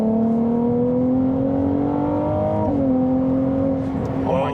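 A Ferrari 296 GTB's engine drones loudly and steadily from inside the car while driving, with a clear shift in pitch partway through and no talking.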